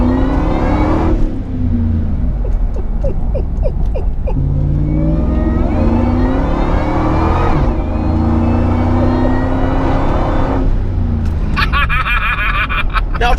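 A 430 bhp supercharged Ford SVT Lightning pickup truck revs and accelerates loudly, its engine note rising and falling through gear changes, with supercharger whine over a deep, constant rumble.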